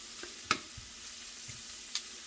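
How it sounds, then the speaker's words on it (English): Onions sautéing in oil in a pan after about five minutes of cooking, a steady soft sizzle with a few sharp utensil clicks and stirring scrapes over it. "my onions have been sauteing for probably about 5 minutes"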